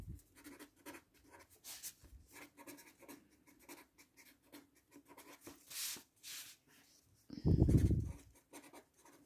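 Pen or pencil writing by hand on paper, with soft intermittent scratching and rubbing strokes at close range, plus a louder rustle or handling noise near the end.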